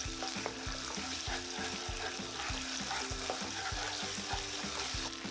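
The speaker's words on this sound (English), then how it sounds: "we're going to add Sichuan pixian, fermented bean paste, and stir fry over high heat for about 2 minutes" Sichuan Pixian fermented bean paste stir-fries in oil over high heat, a continuous close sizzle with regular scraping spatula strokes in an even rhythm across the whole stretch.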